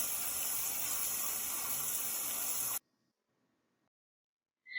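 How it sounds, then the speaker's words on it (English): Water runs steadily from a tap into a sink, a loud continuous gush that cuts off abruptly partway through, leaving near silence. "we're going to turn the water on."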